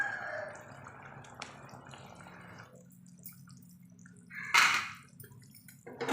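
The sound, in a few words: sardines being dropped one by one into curry gravy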